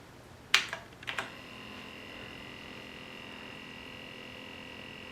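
A few sharp clicks sound as keys are pressed on a computer keyboard, three or four quick taps close together, followed by a faint, steady electrical hum.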